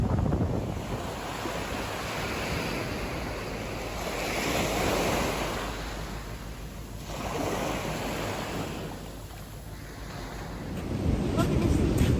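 Sea waves wash continuously onto a local beach, a steady roar of surf swelling and easing in slow surges, with gusty wind buffeting the microphone throughout.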